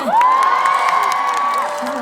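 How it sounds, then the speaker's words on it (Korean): An audience at a Chung-Ang University alumni award ceremony cheers loudly, with a sustained high whoop standing out above the crowd noise for a couple of seconds. "박수 한번 부탁드릴게요"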